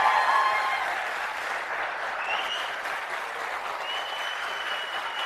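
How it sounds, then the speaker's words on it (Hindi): Audience applause at a live motivational talk in a hall, steady clapping from a sizeable crowd that fades slightly but continues throughout, with no speech over it. "जरा ताली तुली बजा के बता दो तो ऊपर बैठे हैं लोग यार"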